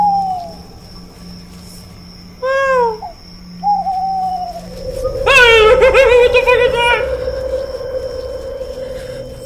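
A person imitates an owl's hoot with the voice while playing a night-time horror game demo: a few short, rising hooting calls, then a longer, louder hoot trailing into a held tone, over faint steady game ambience.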